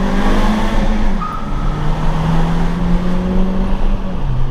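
Peugeot 208 GTI with a 200 hp 1.6 turbo engine driving through a small tunnel, giving a steady, loud engine drone whose pitch holds, then drops and climbs slightly, with no talking.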